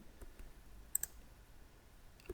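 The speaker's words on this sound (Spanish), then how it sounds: "voy abajo y le doy clic" Two quick, sharp computer mouse clicks sound close together near the middle while working in AutoCAD 3D, then a softer click near the end, all over a quiet room hum.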